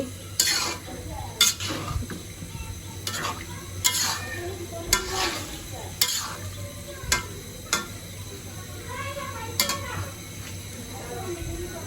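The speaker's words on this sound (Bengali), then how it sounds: "এইখানে খিচুড়ি হইতেছে এখানে মাংস হইতেছে" Meat and khichuri cooking in pots over a stove, with repeated scraping stirs and a steady sizzle of frying in oil, close and moderately loud, with a few clinks of utensils against the pots.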